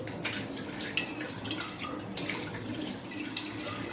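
Steady running tap water splashes while a fish tank is rinsed and washed clean, a close, continuous rush alone with no talk.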